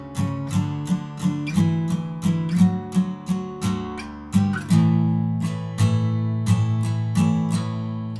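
Acoustic guitar strumming the opening tab line of a song, a steady rhythmic pattern of bright strums ringing over sustained chords, played close and alone.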